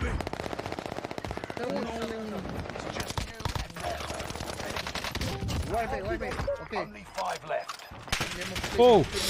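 Rapid automatic gunfire in a shooter video game, with dense bursts of rattling shots running almost throughout, while players chatter excitedly over the action.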